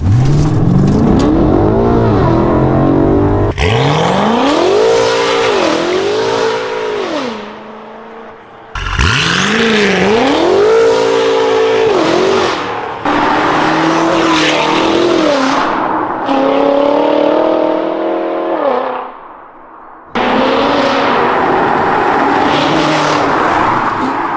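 A BMW M5 F90 Competition with a catless Fi exhaust revs hard in repeated bursts, its harsh, raspy exhaust rising and falling loudly with short gaps between pulls.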